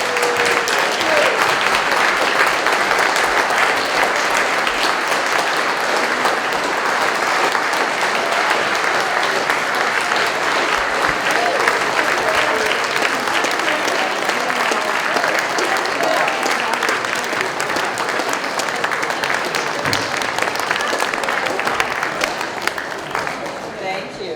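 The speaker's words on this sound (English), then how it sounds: "So one more round of applause." Audience at a Martin Luther King Day celebration gives a long, sustained round of applause, dense clapping that stays loud before tapering slightly at the end.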